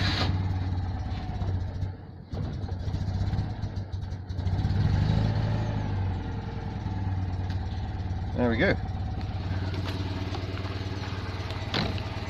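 A Citroën 2CV engine idles steadily after a jump-start from a portable jump pack, a constant low rumble running throughout with someone talking briefly over it.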